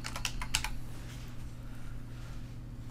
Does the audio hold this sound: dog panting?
no